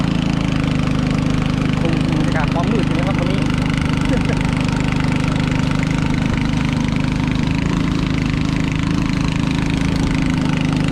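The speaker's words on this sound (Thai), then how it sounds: "ตอนนี้เสียงดังมากนะครับเสียงเรือ" A fishing boat engine on the Mekong River drones loudly and steadily throughout, a continuous low mechanical hum, while someone speaks over it.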